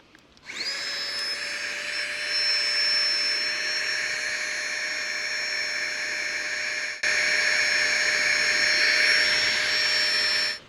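A Flextail electric pump inflating a camping sleeping pad gives a steady, close, high-pitched motor whine with a constant tone, starting abruptly, briefly dipping around the seventh second, then continuing slightly louder until it cuts off.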